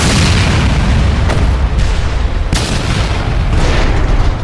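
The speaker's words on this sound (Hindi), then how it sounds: "अगले ही पल पंखा जमीन से जा टकराया और एक भयानक विस्फोट हो गया" A massive movie explosion as a falling ceiling fan crashes to the ground: a loud, sustained roaring blast with a couple of sharper booming bursts rolling through, dense and close without pause.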